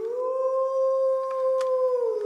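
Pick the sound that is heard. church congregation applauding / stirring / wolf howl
wolf howl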